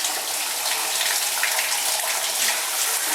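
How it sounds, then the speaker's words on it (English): Warm water runs from a bath tap in a home-care bathroom, a steady, close, hissing gush that holds at an even level from start to finish, with no talk. "So I use the on and off switch for the water now that we have the right temperature."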